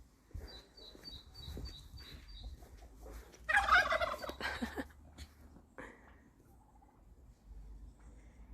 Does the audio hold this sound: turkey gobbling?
yes